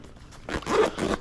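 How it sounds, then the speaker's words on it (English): A zipper on a red MyMedic MYFAK first aid bag is pulled open in one close, continuous rasping run lasting about a second, getting louder midway. "Pull it open. The zippers are very good on this."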